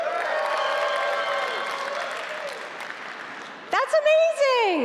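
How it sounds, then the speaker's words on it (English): Audience applause at the Adobe MAX 2025 keynote, a burst of clapping from a large crowd that rises briefly near the end, heard under continuous speech. "some of those people clapping were our CEO, Shantanu, and our president, David."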